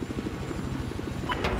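A helicopter in the PS4 video game Battlefield 4 makes a rapid, rhythmic rotor chop that pulses steadily throughout and ends with a brighter burst.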